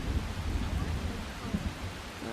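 Steady rain falls in Persona 5 Royal, a dense, even hiss of rain with a low rumbling undertone, continuous and fairly loud throughout.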